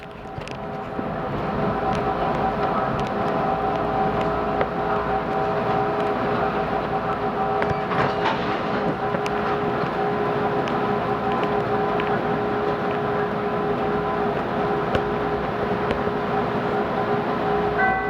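Chicago elevated L Brown Line train running toward Kimball, a loud continuous rumble and wheel roar on the tracks with steady tonal whine, sustained throughout without pause.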